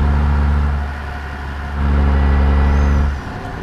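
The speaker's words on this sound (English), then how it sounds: "you hear a lot more tire and just general road noise" Steady low road rumble and tire roar from a truck cruising in American Truck Simulator, heavy and continuous with a slight dip in level partway through, no voices.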